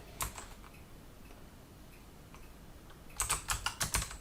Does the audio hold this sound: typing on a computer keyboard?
yes